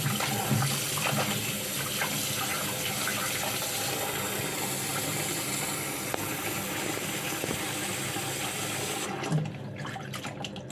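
Lotus roots washed under a running kitchen tap, a steady broadband rush of water with small splashes and handling noises throughout, close and continuous, easing off near the end.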